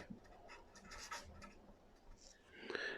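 Chalk or marker scratching on a classroom board during a fifth-grade maths lesson, a faint series of short strokes and scrapes in quick irregular rhythm, heard alone at low level.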